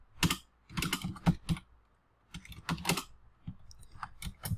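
Close computer keyboard typing in quick clustered bursts of key clicks, separated by brief pauses, with no speech.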